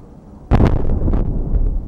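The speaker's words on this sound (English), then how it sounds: "catches a massive explosion from the site of a freight train that collided with a propane truck and derailed in northwestern Minnesota" Massive explosion at the site where a freight train collided with a propane truck and derailed in northwestern Minnesota: a sudden loud boom erupts from near-silence into a sustained roaring rumble, buffeted by wind noise.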